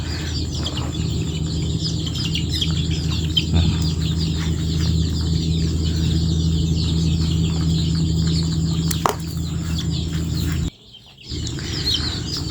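Chickens clucking and calling during a fowl pox vaccination of backyard and laying hens, a steady low clucking chorus with occasional sharper chirps, close and continuous, briefly cut off near the end.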